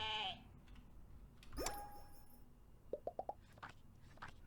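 A sheep bleats once in the Terracards video game, a wavering cry near the middle, with brief clicky game effects following and a low steady background hum.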